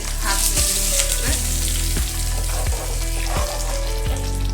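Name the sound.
South Indian tempering (oggarane) sizzling as it's added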